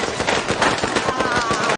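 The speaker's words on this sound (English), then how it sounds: "a one-legged teen throws firecrackers and mocks the GIs" A rapid, dense string of firecracker pops from a war film scene crackles loudly for under two seconds, then cuts off abruptly.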